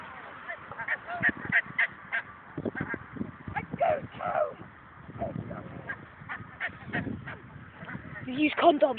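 A gathering of geese honks repeatedly at close range, overlapping calls coming in uneven bursts throughout, with occasional human voices faintly mixed in.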